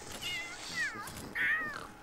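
A cat in The Sims 3 gives two or three clear, rising-and-falling meows, the last one loudest, heard alone with no talk over it.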